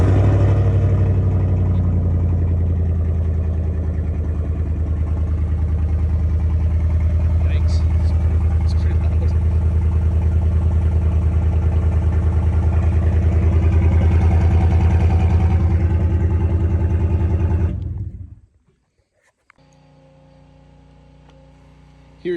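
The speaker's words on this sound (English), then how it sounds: "Here's the video of the MBRP muffler bypass, muffler delete. It is pretty loud." A Chevy Silverado Trail Boss pickup running with an MBRP muffler delete bypass gives a loud, deep, steady exhaust drone close by that cuts off abruptly near the end, leaving a quiet low hum.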